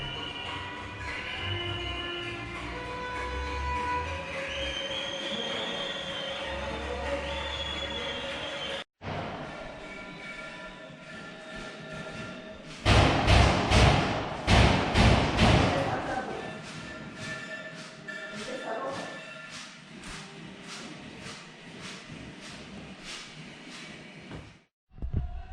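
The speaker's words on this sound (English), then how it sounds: "Explosions going off outside." Muffled rumbling and voices inside a Bogotá hostel during a street protest give way to a cluster of loud, booming bangs outside in quick succession, then the noise settles back down.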